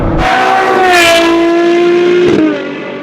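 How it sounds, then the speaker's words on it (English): Ferrari Purosangue with Novitec Esteso widebody, engine induction in 6th gear, a loud, close, sustained roar with a steady tone that swells and then eases off briefly near the end. "Listen to this, 6th gear. Induction is just beautiful."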